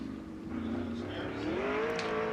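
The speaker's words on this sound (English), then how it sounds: "First 2 cars to hit the speedway." Sprint cars roll onto a dirt speedway at an Ohio raceway, engines droning and slowly rising in pitch as they pull out, steady and moderately loud with faint crowd and announcer noise behind.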